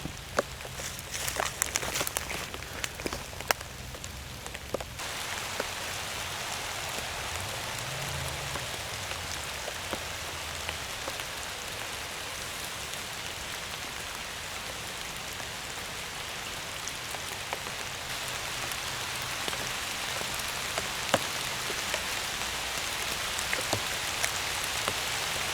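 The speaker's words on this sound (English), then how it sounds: "And it's raining." Steady rain pattering on surfaces all around, with a few sharper drips and rustles up close at the start.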